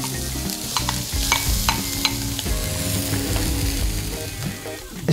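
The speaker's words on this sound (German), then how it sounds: "Zuerst wird Zwiebel und Knoblauch in Olivenöl angeschwitzt." Onion and garlic sautéing in olive oil for a Greek moussaka, a steady close sizzle broken by repeated scraping stirs, with no voices.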